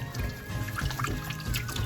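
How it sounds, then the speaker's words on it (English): A hand swishes cold water around a container to dissolve salt for salting capelin, making close, soft sloshing and trickling sounds that continue for a couple of seconds without voices. "So by swishing the water around, will help dissolve that salt."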